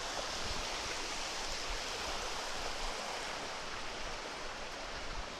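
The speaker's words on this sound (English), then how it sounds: "Always remember the sound and the amount of water that you see over here" Water flowing in a canal, a steady broadband rushing roar that stays loud and even throughout with no pauses.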